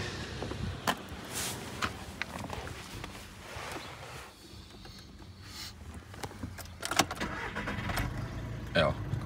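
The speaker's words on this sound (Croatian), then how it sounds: "Sad ću vam pokazati kako auto radi." A diesel Volkswagen Beetle idles with a steady low engine rumble through the whole stretch, with intermittent clicks and knocks on top and no talk over it.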